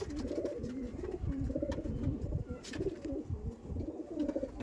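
Pigeons at a loft cooing continuously, a dense rhythmic chorus of low, throaty coos from several birds close by, with no talk over them.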